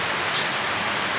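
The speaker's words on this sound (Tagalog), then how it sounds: "Super lakas ng ulan dito sa amin." Steady, dense broadband hiss of heavy rain pouring down, uniform and close with no breaks, a faint brief whine near the start.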